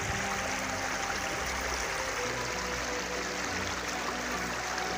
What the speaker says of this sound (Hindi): पानी का आवाज़ है